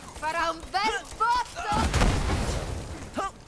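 A loud explosion with gunfire in the video game Borderlands 3 bursts out for over a second between stretches of someone talking.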